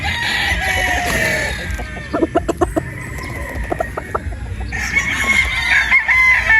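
A Boston Roundhead broodstag with a white strap crows at a game farm, a loud drawn-out call near at hand, with clucks and other fowl calling around it.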